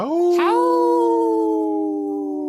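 A lone wolf howl rises quickly and then holds a long, steady, tonal note with rich harmonics. It is loud and clear, with no other sounds around it.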